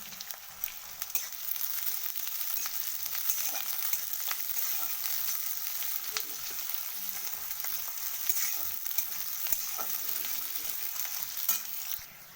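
Onions and green chillies fry in a pan with a steady, bright sizzle that runs unbroken and fairly close, with light crackles and occasional stirring scrapes.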